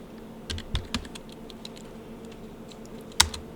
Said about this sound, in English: Okay, so I'm going to type my name and then press enter.